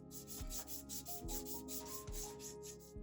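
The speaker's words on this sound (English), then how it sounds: "I am cleaning the end of this pipe that's going to penetrate the fitting, using sandpaper" Sandpaper rubs the end of a copper pipe before soldering, making rhythmic back-and-forth scratching strokes about once a second, close and fairly quiet, with no talking.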